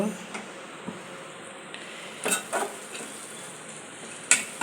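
Chicken pieces being stirred in a frying pan, a steady soft sizzle underneath with a few sharp scrapes and clinks of the utensil against the pan, close by.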